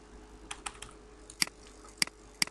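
Keys tapped on a computer keyboard while code is entered for airplane simulator game brake and flap inputs, a handful of light, quiet clicks spread unevenly, with a few sharper taps standing out.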